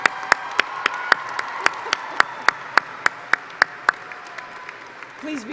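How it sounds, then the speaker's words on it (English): Audience applause at a college commencement, steady crowd clapping at moderate distance with a regular series of sharp, louder claps standing out on top, fading slightly toward the end. "Another round of applause for Sam."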